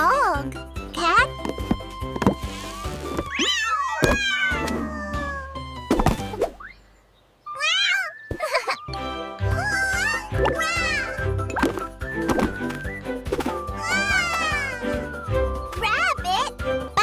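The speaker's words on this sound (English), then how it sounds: "Cat." A cat meowing several times in drawn-out, wavering cries over a steady musical background, loud and close.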